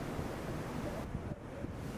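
Strong wind and breaking ocean waves on the Moroccan Atlantic coast, a dense, continuous roaring wash with heavy wind buffeting on the microphone, no voices.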